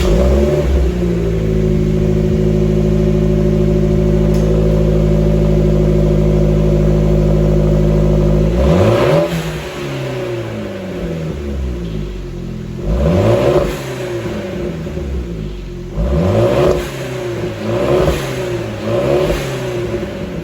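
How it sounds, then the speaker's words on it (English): A Fiat 124 Spider Abarth fitted with a MagnaFlow exhaust and resonator idles loudly with a steady drone, then blips through a series of sharp revs that rise and fall, close to the tailpipe, with no talking. "let's hear how this car sounds with the resonator on"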